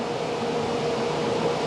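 An outdoor shop dust vacuum with a 1 horsepower motor, switched on by a magnetic blast gate, roars as a steady broadband whoosh with a faint tonal hum, constant and fairly loud.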